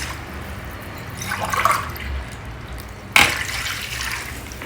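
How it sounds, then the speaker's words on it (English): Water pours and splashes into a cooking pot close by for sambar rice, rising and then easing, with a short sharp knock partway through. "First I'll add 2 cups of water for the sambar rice."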